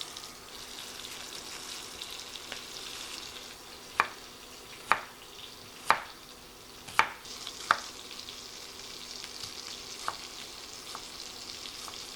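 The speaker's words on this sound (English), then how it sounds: "So I'm just going to move my patties around so they fully get cooked." Ground beef patties fry in a hot cast iron enamel pot under a steady, quiet sizzle, while a spatula shifts them around with five or six sharp scrapes and clacks against the pot, then a few softer ones.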